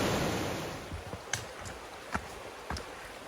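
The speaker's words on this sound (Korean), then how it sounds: "폭포가 지나는 황장폭포입니다." Hwangjang waterfall in Seoraksan National Park flows as a steady broadband rush at a distance, with a few faint scattered clicks and knocks nearby over the continuous wash of water.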